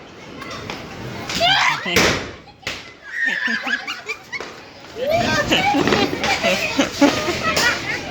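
Diwali firecrackers bang during a night celebration, sharp loud blasts cutting through the shouts, laughter and excited chatter of a family crowd, with one heavy burst standing out near the middle.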